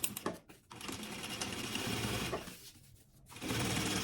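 Sewing machine stitching a lining together with a zipper for a sublimated maternity kit, running in steady continuous bursts with two brief pauses, close and loud with no talking.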